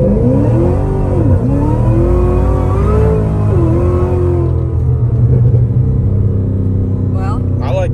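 New Cadillac street car engine revving loud and close, rising and falling pitch over a deep rumble, with people talking over it.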